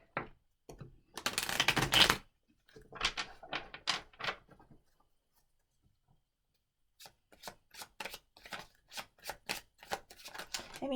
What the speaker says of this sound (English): Let me just shuffle these real quick.